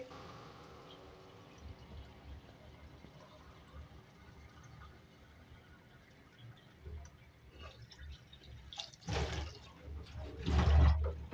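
Water poured from a glass into a pot of beef korma during cooking, a splashing pour rising loud near the end after quieter kitchen background.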